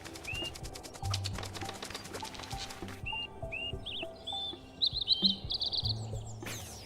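Tiny bird's song in a video game: several short, high chirps and whistled trills, clustered near the end, over a busy layer of game music and ambience.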